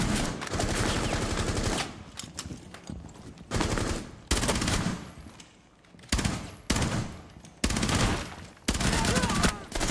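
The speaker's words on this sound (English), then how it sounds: "Weapons discharge on the ground floor!" Bursts of automatic gunfire in the tactical shooter Rainbow Six Siege during a terrorist hunt, loud repeated volleys separated by short lulls, with no talking.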